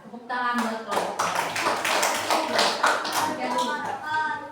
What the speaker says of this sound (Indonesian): Ya, tepuk tangan buat kelompok.